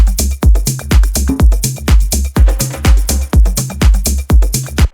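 Saturated electronic bass sidechained to a kick drum pattern, pumping in a steady rhythm as thumping kicks alternate with swelling gritty bass notes, loud and upfront with no voices.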